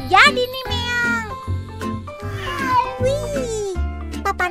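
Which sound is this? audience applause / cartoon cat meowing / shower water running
cartoon cat meowing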